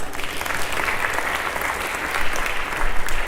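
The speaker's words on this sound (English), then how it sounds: "Do you think they deserve another round of applause?" An audience claps warmly after a Bharata Natyam arangetram dance performance, a full, continuous burst of applause that swells slightly toward the end.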